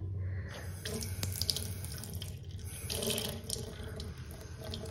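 Tap water runs steadily into a sink at close range, a constant splashing hiss with small surges and no talking over it.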